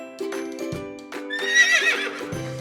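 A horse whinnies loudly and up close, a long, shaky neigh that rises and falls, with a few lower snorting calls before and after it.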